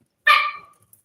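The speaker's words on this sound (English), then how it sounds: "My dog and my cat are over there playing rough." A dog playing rough with a cat gives one sharp, close bark that fades quickly into a short tail, then quiet.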